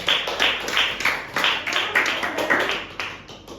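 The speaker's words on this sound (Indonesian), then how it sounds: "Kasih tepuk tangan buat Mas Ridwan" Clapping for Mas Ridwan in a classroom comes as a series of distinct, rhythmic group claps, roughly two per second, close and moderately loud.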